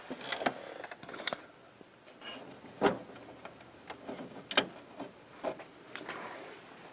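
A Canon Pixma Pro 100 printer's carriage, fitted with an ink tank refill system hose, shuttles back and forth, giving faint mechanical whirs broken by a few sharper clicks and knocks, with no voices.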